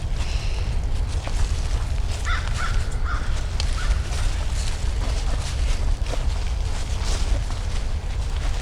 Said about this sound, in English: There's crows.